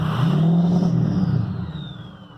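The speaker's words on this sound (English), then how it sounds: "Listen to that sassy engine." A 6-liter turbo truck engine revs up with a deep, rough roar, then winds down while a faint turbo whistle lingers and falls away, close and loud.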